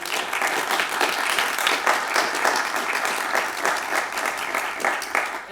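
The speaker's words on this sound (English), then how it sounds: "we'll applaud for you" A small group applauds for a governor with steady, moderately loud clapping that continues evenly throughout with no talk over it.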